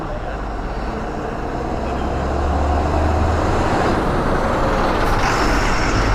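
Buses idling and moving at a roadside bus stand on a Himalayan bypass route serving Srinagar, Rishikesh, Haridwar and Dehradun, with a low diesel rumble that swells and an air brake hiss near the end.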